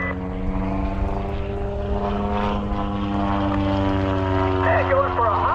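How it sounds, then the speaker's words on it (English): A propeller airplane flying an aerobatic slow roll at the Dayton airshow gives off a steady, droning engine hum with strong harmonic tones, heard from a distance with faint talk and crowd noise underneath. "just do a nice little slow roll across the top of the loop. Just showing off the performance of the airplane."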